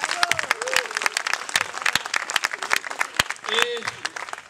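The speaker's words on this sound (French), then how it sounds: "Applaudissez pour la famille." Audience applause at a live stand-up comedy show, a dense burst of clapping from a crowd that rises and swells, with a voice speaking over it.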